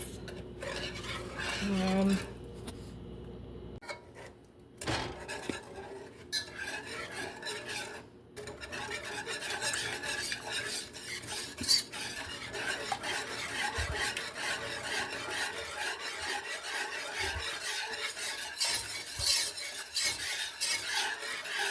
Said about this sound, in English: I gradually whisk this.